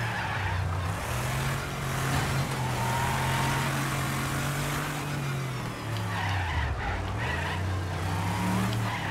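Racing car engine with sustained drone and shifting pitch from the Wreckfest video game, with a V8 engine noted as worn out, accompanied by tyre skidding sounds, loud and continuous throughout.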